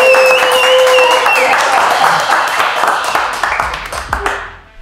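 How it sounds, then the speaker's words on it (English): Applause and cheering break out for the first profit on the Kralow Trading Show, dense clapping spread across a crowd, with a tonal whistle-like cheer early on and voices mixed in before the sound thins out near the end. "let's see the applause for the first profit of Kralow Trading Show"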